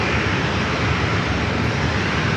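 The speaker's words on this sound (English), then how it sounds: "This corporate jet doing a little back taxiing on 27." A corporate jet back taxiing on runway 27 at San Diego airport, a loud, steady engine roar and rushing whine holding constant throughout with no talk.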